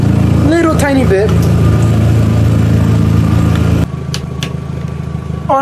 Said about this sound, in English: You can hear a little bit of a misfire, little tiny bit.